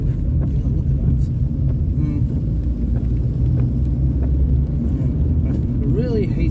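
A car drives through town in the rain, with loud, steady low road rumble and tyre hiss while another car overtakes. Brief bits of voice rise over the noise.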